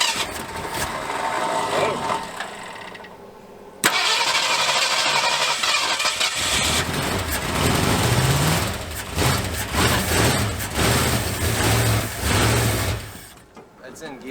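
An abandoned old Ford F100 truck cranks, then its engine suddenly catches and runs roughly after years sitting, a loud, close, uneven idle that surges and wavers before quieting near the end.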